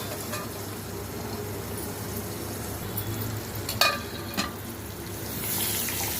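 Masala frying in oil for a pointed gourd (parwal) curry, a continuous soft sizzle with a couple of brief clanks of a spoon against the pan, heard alone without speech.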